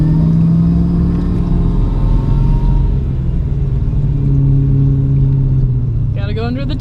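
A Dodge Hellcat with a Turbo 400 transmission drives along with a loud, deep engine rumble and drone that swells and falls with the throttle, while someone talks over it from inside the cabin.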